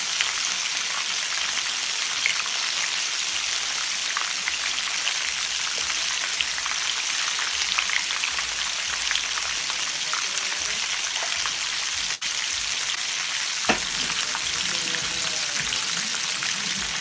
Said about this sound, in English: My fish frying good.